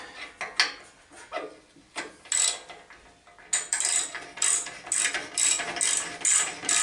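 Repeated ratchet clicks in short bursts, close and loud, as a wrench tightens the muffler bolts on a riding mower that has been burning oil; no talking.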